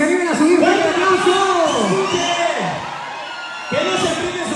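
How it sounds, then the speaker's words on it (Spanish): A crowd at a live band concert at an event center roars and cheers, with whoops and a host shouting over the noise; the din stays loud, dips briefly, then swells again. "¡Fuerte el aplauso para que se animen a subir!"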